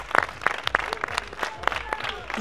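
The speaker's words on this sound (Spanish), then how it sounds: "Un aplauso para Manuel, que se ha cargado a Leo." Scattered applause from a small group at an amateur sports challenge, a handful of distinct, fairly close claps over a couple of seconds, with voices mixed in.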